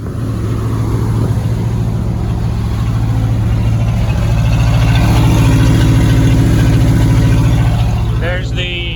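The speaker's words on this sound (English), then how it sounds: "Have to idle her pretty high just because she won't stay running." A 1966 Ford fire truck engine held at a high idle, a loud, steady low-pitched drone with a constant exhaust throb, running close by throughout.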